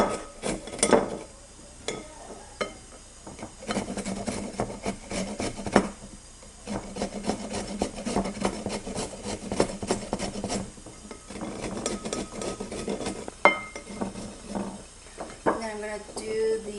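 Vegetables being shredded on a hand grater for an Asian sesame cold noodle dish, a steady scraping rasp with repeated strokes, fairly close and moderately loud, and brief pauses between passes.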